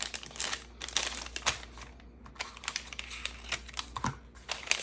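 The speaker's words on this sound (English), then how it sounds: "And the sound of these envelopes." Paper packaging envelopes crinkle and rustle in close, irregular bursts of crackling handling noise, loud and dry, with no one talking.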